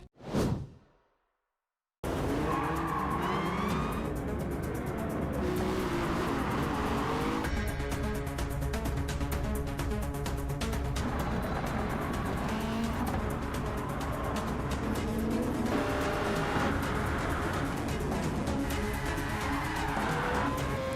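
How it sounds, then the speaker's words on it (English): Race cars in the video game Gran Turismo 7 roar continuously at high revs, with whooshing passes and squealing tires over a dense, loud engine drone after a brief opening burst and a moment of silence. "Gran Turismo 7 is the definitive driving simulator."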